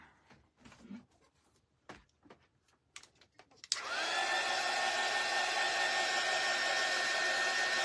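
A hair dryer blows steadily on a snowman craft kit piece made of stacked pumpkins, switching on abruptly after a few quiet clicks and handling sounds, then running loud and constant to the end.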